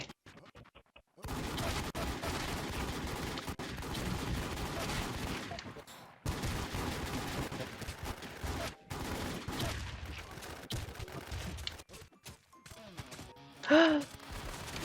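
Sustained rapid gunfire from a video game shooter, dense bursts running nearly throughout with brief gaps, fairly loud and close, with a sharper burst near the end.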